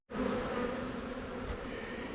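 Honeybees drone around an open hive during an inspection, a steady, dense buzzing that holds evenly for a couple of seconds and starts abruptly, close and unaccompanied by speech.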